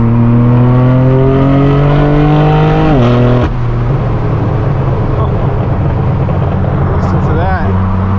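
A straight-piped BMW M4 F82 with a loud, raw exhaust, heard from inside the car, climbing through the revs in a rising drone, then dropping abruptly into a rough, rumbling idle.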